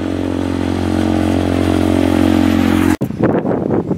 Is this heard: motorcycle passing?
yes